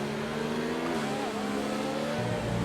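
In the F1 2019 racing game at Interlagos, a Formula 1 car's engine revs hard and continuously, the pitch climbing and shifting between gears, loud and up close, with a voice talking underneath.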